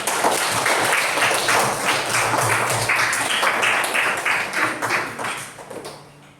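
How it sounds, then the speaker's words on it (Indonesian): A class claps after a student presentation, a dense steady patter of many hands that carries on for several seconds and then thins out and fades near the end. "Tepuk tangan dulu coba."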